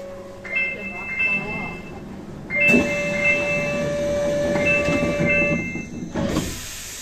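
A Kintetsu 20 series express running through the Kyoto subway toward Nara, its Mitsubishi hybrid SiC VVVF inverter giving a steady electric whine over continuous rumble and hiss of the moving car.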